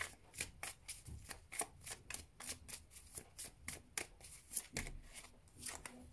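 Tarot cards are shuffled by hand in quick, soft riffling flutters that repeat quietly and steadily up close.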